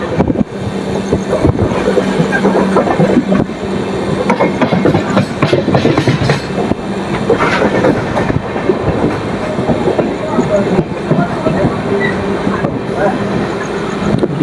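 Rani Chennamma Express departing Yeshwantpur behind a WAP-7 electric locomotive: loud, close, continuous rumble and rhythmic clickety-clack of wheels on rails, with voices faintly audible over the running noise.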